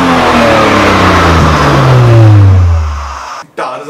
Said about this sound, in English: Tell me, what car is that? Audi RS4.